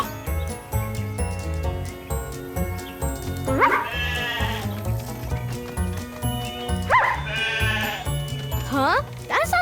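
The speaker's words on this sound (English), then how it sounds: "I've spotted 4 sheep in this pasture." Cartoon sheep in the Paw Patrol Academy video game bleat twice, loud and wavering, over a bouncy looping game music track.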